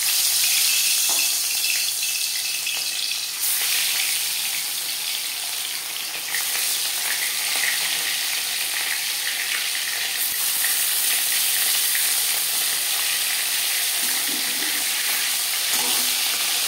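Marinated katla fish frying in hot refined oil, a loud steady close sizzle and crackle that holds throughout with slight swells, no talking.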